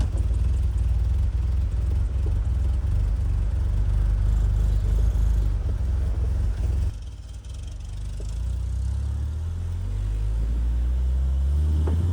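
A 1977 Fiat 124 Spider runs and drives, its loud, close engine rumbling steadily, then dipping to a quieter idle before building again as it pulls away, with no talk.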